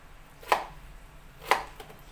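Two crisp knife chops on a cutting board, about a second apart, as potatoes are cut into small cubes; close and clear against quiet kitchen background.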